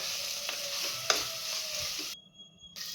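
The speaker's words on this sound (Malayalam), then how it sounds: "അതിലേക്ക് സവോള, പച്ചമുളക് മുറിച്ചതും കറിവേപ്പില ഇട്ട് നന്നായിട്ട് വഴറ്റിയെടുക്കുക" Onion, green chilli and curry leaves sautéing in a clay pot for Kerala beef curry, a quiet steady sizzle close by with a few spoon scrapes and clicks, and a short drop near the end.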